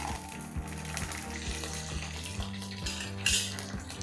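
Garlic cloves added to a pan with curry leaves and chana dal, frying for a Tamil vathakku chutney; steady close sizzle with clinks of a utensil against the pan and stirring scrapes, no voices.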